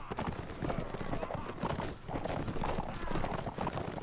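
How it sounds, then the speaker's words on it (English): Horse hooves clatter densely and loudly in a Mount and Blade Warband battle, with many mounts galloping at once amid continuous, busy combat noise. "a lot of horse clatter going around"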